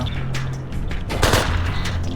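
Rapid gunfire bursts from a weapon in the IGI video game crackle loudly, with a heavier blast near the middle, over continuous game background noise.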